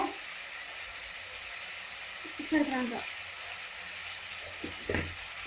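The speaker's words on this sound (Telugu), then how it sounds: "చిక్కుడుగా చక్కగా మనకి నూనెలో వేగిపోయింది, ఉల్లిపాయలు కూడా వేగాయి." Broad beans and onions frying in oil with salt and turmeric, a steady close sizzle under the clatter of stirring, with a couple of louder scraping bursts midway and near the end.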